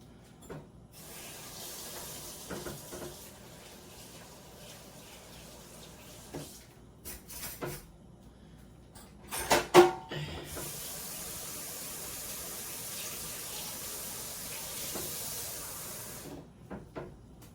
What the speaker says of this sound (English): I will add just a little tiny bit of water.